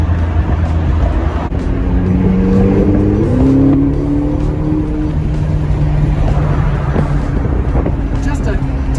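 McLaren car accelerating with a touch of turbo lag, engine note climbing steadily from inside the cabin over heavy road rumble, loud and continuous.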